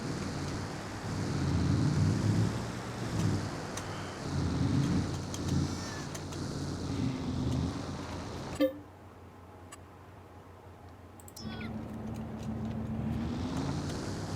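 Vehicle driving into a village in the video game Farming Simulator 22, a steady engine drone with road rumble that cuts out briefly and then resumes at a lower, even hum.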